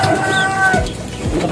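A pigeon coos close by in a low, throaty burst, with a faint hum and light background noise around it.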